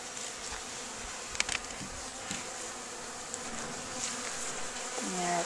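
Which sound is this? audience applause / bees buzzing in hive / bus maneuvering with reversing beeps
bees buzzing in hive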